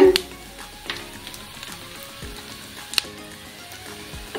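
Sliced onions frying in oil in a pan for a puti fish tel-jhal, a soft continuous sizzle with occasional spatula scrapes and clicks, quiet and close, no voices.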